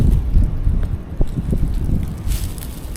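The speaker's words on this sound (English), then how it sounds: "You hear that wind?" Wind gusts outdoors in Appalachia on a blustery day, buffeting the microphone in uneven low rumbles with faint rustling and no voices.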